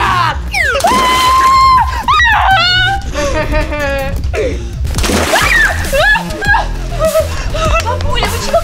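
Water balloons hurled down from a balcony burst with wet splashes, mixed in among animated voices shouting and laughing.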